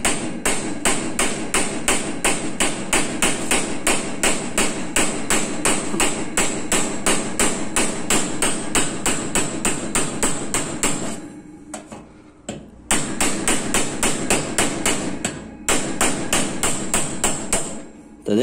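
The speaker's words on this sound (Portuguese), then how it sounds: "vai batendo devagar, não pode ter pressa, porque se bater forte, ele acaba" A hammer delivers rapid, steady light taps to knock the head off a rivet on a gas stove oven, a fast even rhythm that is loud and close, pausing briefly twice before resuming.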